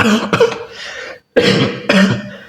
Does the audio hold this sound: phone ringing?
no